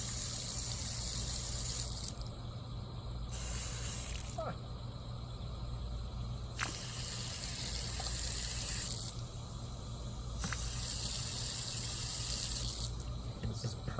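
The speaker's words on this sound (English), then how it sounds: "that's the reverse flush of the way the water flows" Water gushes steadily through the cooling system of a GM bus during a reverse flush, a continuous close, loud rushing flow with a low hum underneath and brief shifts in the spray.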